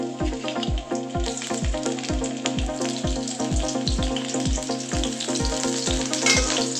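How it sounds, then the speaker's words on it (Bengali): Chopped onion frying in hot mustard oil in a wok for a lentil dal with ridge gourd, giving a continuous close sizzle and crackle with a regular low knocking rhythm running underneath throughout. "কড়াইয়ে দিয়ে দিচ্ছি এ দেখুন পেঁয়াজ কুচি"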